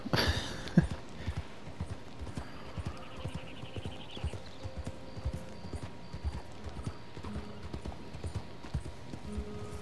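Steady clip-clop of horse hooves walking at an even pace in the video game Red Dead Redemption 2, with a brief whinny early on and faint background tones.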